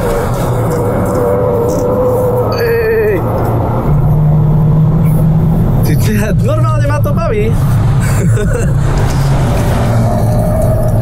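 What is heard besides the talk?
VW Beetle race car engine at full throttle on Slovakiaring track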